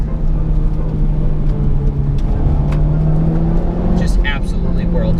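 A Honda Civic Type R hot hatch accelerates hard, its loud, steady engine drone climbing in pitch toward the end while a voice exclaims over it.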